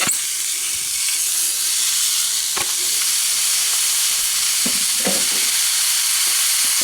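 Turkey thigh searing skin-side down in a dry pan with only salt and pepper, giving a steady, loud broadband sizzle with a few sharp pops and spits and no speech over it.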